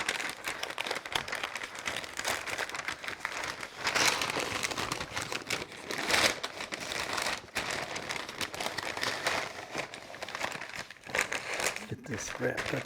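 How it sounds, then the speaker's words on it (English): Brisket on a smoker being wrapped tightly in peach butcher paper, with steady close crinkling and rustling of paper throughout, brief louder crackles, and a voice talking over it. "we're fixing to wrap it up in some peach butcher paper"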